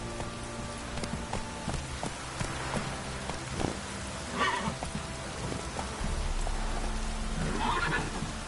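Roach, a horse in The Witcher 3, gives a couple of brief neighs over steady rain falling on the ground, with faint hoof thuds in the background.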